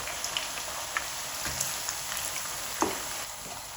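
Onion and gram flour fritters fry in hot ghee with a steady close sizzle and bubbling, scattered crackles and pops, and no voices.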